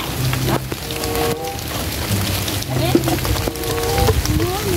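Heavy rain pours down in a dense, constant hiss and patter over a trash-strewn seashore, with voices talking underneath the downpour.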